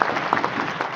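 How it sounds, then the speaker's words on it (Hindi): A short burst of audience applause for Team Synergy at a business seminar, steady dense clapping from a crowd lasting about a second. "एक जोरदार ताली होनी चाहिए टीम सिनर्जी के लिए।"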